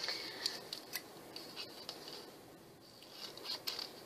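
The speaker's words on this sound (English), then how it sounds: "Kind of just cut a feather shape." Scissors snip through paper while a feather shape is cut from scrap paper. The sound is a close, quiet series of crisp, irregular clicks and snips with no voices.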